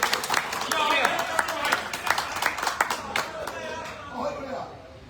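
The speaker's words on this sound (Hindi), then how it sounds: "जोरदार ताली साउंड वाले भैया के लिए बजाएंगे" Applause from a mushaira audience on a lawn in Bareilly, a dense patter of clapping at moderate distance that thins out toward the end, with some voices murmuring underneath.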